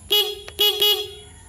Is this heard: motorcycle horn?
yes